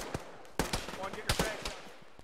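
Rapid gunfire bursts and single shots from the Arma military video game crack out in quick clusters, some close and sharp, others duller, with radio-style squad voices talking underneath.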